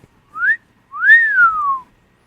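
A person whistles two clear tones up close: a short rising note, then a longer one that rises and slowly falls, with nothing else heard around them.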